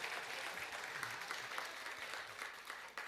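A church congregation applauding, steady sustained clapping from many hands in a room, moderately distant and consistent throughout.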